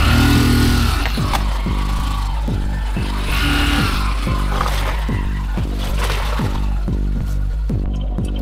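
A car drives slowly along a rough jungle road near Sonegaon in Bhandara, its engine a steady close rumble with repeated thumps and rattles as the wheels strike bumps, no voices over it.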